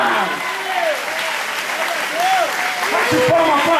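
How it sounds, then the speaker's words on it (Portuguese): A church congregation applauds during a worship service, a steady wash of clapping mixed with shouting voices and a preacher speaking over it, growing slightly louder near the end. "Aplaude a Deus."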